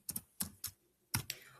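Quick clicks of a computer keyboard as a folder name is typed, about six close keystrokes in small bursts with short pauses.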